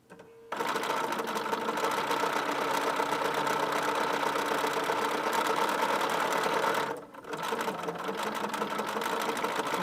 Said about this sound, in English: I am indeed sewing over pins.